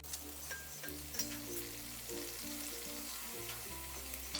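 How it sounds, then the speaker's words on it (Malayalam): Stuffed masala puri dough frying in hot oil gives a steady close sizzle and bubbling crackle, continuous throughout, with light clinks of a utensil in the pan. "എണ്ണ ചൂടാകുമ്പോഴേക്ക് ഫില്ല് ചെയ്ത് വെച്ചിരിക്കുന്ന ഓരോ മാവും ഇതിലിട്ട് ഫ്രൈ ചെയ്തെടുക്കാം."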